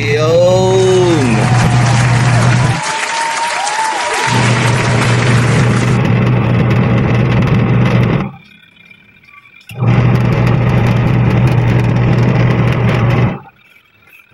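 A repaired washing machine motor runs steadily with a loud, continuous hum, interrupted by brief pauses before starting again, with some faint voice-like tones early on.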